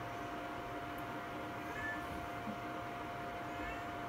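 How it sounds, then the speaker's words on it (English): A cat meows at a basement door, faint and somewhat distant, a few short calls over a quiet indoor hum with a steady tonal whine. "he's just meowing at the door"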